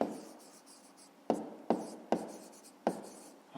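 Pen writing by hand on paper while working a grade 5 maths exercise: a steady scratchy rubbing with several sharp strokes or taps at a quick, uneven rhythm, close and clear, with no talking.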